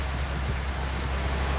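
Steady rain in the Indonesia bus simulator video game, a dense even hiss of falling drops with no breaks, loud and alone throughout.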